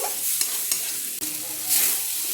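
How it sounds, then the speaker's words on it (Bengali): Spice paste with chilli powder cooks in oil for a dhaba-style drumstick curry. A loud, close, continuous sizzle runs under brisk stirring and scraping, with one brief break, and no one speaks. "এবার মশলাটাকে আরও ভালোভাবে কষিয়ে তেল ছাড়িয়ে নেবো। তো আমি এটাকে এবার কষতে থাকি।"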